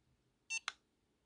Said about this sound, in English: Let it beep, and then there you go.